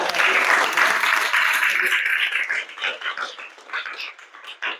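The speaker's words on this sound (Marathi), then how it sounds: "एकदा जोरदार टाळ्या विद्यार्थ्यांसाठी." School audience clapping loudly for students at a village primary school event, a dense burst of applause that holds for a couple of seconds, then thins into scattered claps and fades.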